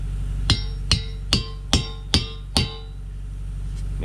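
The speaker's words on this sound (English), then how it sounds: "It's got splines, hit it with a hammer." Six sharp hammer blows ring out at a steady, roughly half-second rhythm as a splined wheel stud is driven into a truck's rear axle hub during a roadside repair on a Sterling with a Meritor axle, close and loud with no talk.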